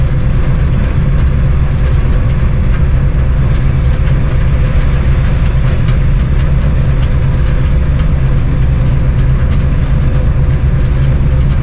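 A locomotive-hauled passenger train rolls through Bolan Pass, heard as a loud, continuous rumble and rattle of wagons from on board, steady throughout without speech.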